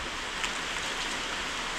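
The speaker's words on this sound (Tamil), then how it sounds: "ஊரில் மழை ஸ்டார்ட் ஆகிட்டு" Steady rain falling at a rural village, a continuous broadband hiss with soft patter that holds evenly across the short stretch, no voices.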